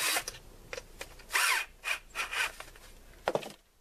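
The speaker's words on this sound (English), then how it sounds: "Just as tight as that drill will take it." A power drill tightens a clamp as hard as it will go during a wood gluing job in a crawlspace repair, whirring in repeated short close bursts with small pauses between them.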